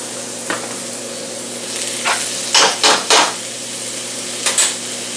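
A spoon stirs an Ethiopian berbere spice mix in a hot pan, soft sizzling underneath with several scraping clinks against the pan in quick bursts, close and alone.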